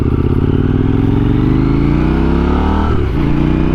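A KTM Duke 890R motorcycle revs hard under acceleration for a wheelie, its loud, close engine note climbing steadily before the throttle is cut briefly near the end and then reapplied.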